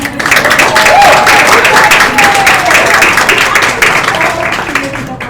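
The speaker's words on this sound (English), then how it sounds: "How about a round of applause for Jessie?" Loud, steady applause from an event audience honoring a staff member at a school celebration, a dense wash of clapping lasting several seconds with a few voices faintly mixed in.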